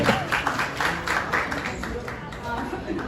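Audience applause at a Chhattisgarhi film award ceremony, a dense, steady wash of many hands clapping in a large hall, heard under a voice speaking over it.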